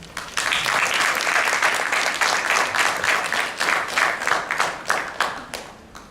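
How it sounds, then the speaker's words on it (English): A room full of people applauding a speaker, dense clapping that starts abruptly, holds steady and loud, then thins into scattered individual claps as it fades. "please give a round of applause to Mr."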